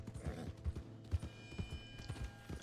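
A slow horse trots in Red Dead Redemption 2, its hooves striking in an uneven clip-clop rhythm of soft thuds with faint creaking of tack, fairly close and fairly quiet.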